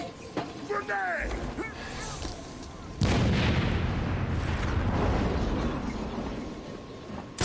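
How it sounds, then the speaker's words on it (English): A grenade blows up in the Batman video game Arkham City, a sudden loud burst at about three seconds that leaves a long, roaring rumble. Before it come game voices and a few thin whooshing effects. "Grenade!"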